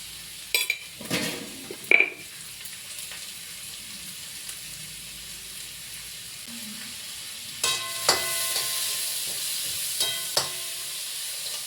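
Onions sautéing in a pan with a little salt for a home crab curry, a faint steady sizzle under occasional close scraping and clinking of a spoon stirring, with quieter stretches between bursts of stirring.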